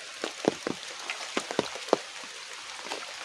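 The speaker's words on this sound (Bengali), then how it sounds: "বৃষ্টি পড়তেছে" Rain falling at a village fishing spot, with scattered drops tapping sharply on a surface, close and steady over a soft wash of background patter.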